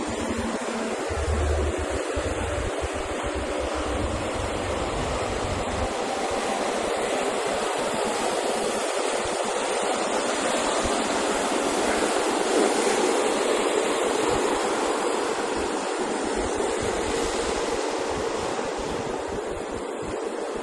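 A steady, broad rush of churning water and surf from a passing cruise ship's wake fills the air, continuous and fairly loud, with wind rumbling against the microphone and no voices.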